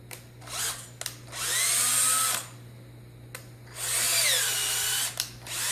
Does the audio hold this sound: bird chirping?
no